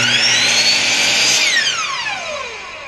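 Power saw set to 45 degrees making a test cut in wood: a loud, close high whine that holds steady and then winds down, its pitch falling as the blade spins down.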